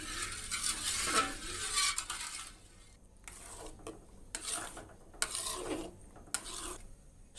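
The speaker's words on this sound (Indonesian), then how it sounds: "Sambil kita aduk-aduk, jangan ditinggal ya." Thickening hunkwee flour batter stirred in a pot over medium heat, a series of soft rasping scrapes of the spoon against the pot in uneven strokes with short pauses between, close and fairly quiet.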